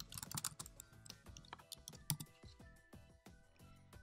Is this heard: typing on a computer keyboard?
yes